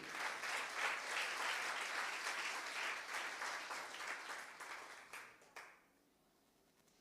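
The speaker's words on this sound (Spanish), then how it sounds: "Denle un aplauso al que vive." Church congregation clapping together, a dense sustained round of applause that gradually thins and stops near the end, leaving quiet room tone.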